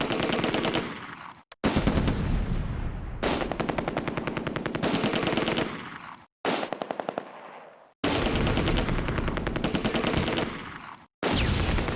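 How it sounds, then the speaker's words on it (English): A heavy machine gun in the war game Close Combat fires long, rapid bursts close up, with several sustained volleys broken by brief silent gaps, and no voices. "you have the heavy machine gun. We need you to do heavy machine gun things."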